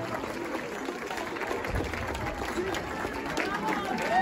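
At the finish of a 5K elite race, an outdoor crowd claps for the first-place runner, with soft, diffuse applause mixed with crowd chatter and ambient noise, steady throughout.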